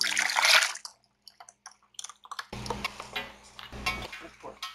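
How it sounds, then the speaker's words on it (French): Sauce and beef cubes being added to a slow cooker: a clatter of utensil against the pot, then wet sloshing and plopping of liquid and meat pieces, close up and moderately loud, with a few voice sounds. "On va incorporer la sauce à l'intérieur ainsi que les cubes"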